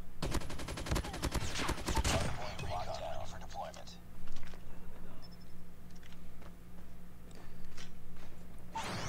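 Rapid automatic gunfire from a gun in COD Mobile crackles loud and dense for about two seconds, then falls to scattered shots and game noise with a voice talking over it.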